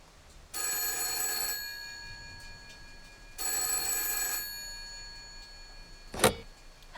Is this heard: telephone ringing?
yes